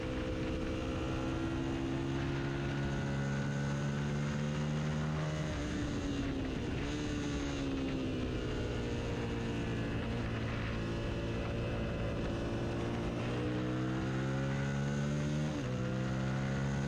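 A racing motorcycle engine in a lightweight-class track race screams continuously at high revs, its pitch climbing through gears with brief dips at the shifts, loud and close with wind rush and no talk.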